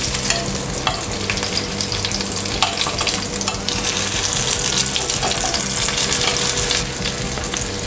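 Breaded fish fillet frying on a tawa, a steady, close, continuous sizzle with crackling bursts and faint scraping throughout, no voices.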